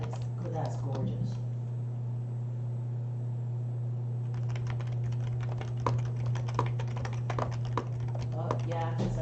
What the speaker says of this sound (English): I can hear you typing, but you're drawing in the video